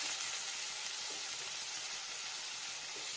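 Ginger and onion frying in mustard oil, giving a dense, continuous hissing sizzle that stays close and steady without a break, no voices.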